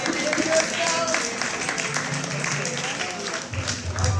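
An audience at a 45th anniversary celebration for Brown Spice Dolls applauds, with a continuous patter of clapping heard while people talk over it.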